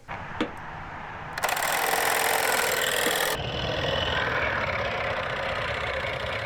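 A small solenoid engine on a toy boat starts up with a sudden buzzing rattle, then keeps running in a rapid, steady mechanical chatter that shifts slightly partway through.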